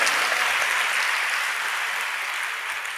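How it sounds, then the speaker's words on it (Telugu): A church congregation claps together in praise during a Telugu sermon, a dense, steady burst of applause filling the space at close range with no talk over it, tapering slightly toward the end. "ఇప్పుడు మీకు మీరే చప్పట్లు కొట్టుకున్నారు"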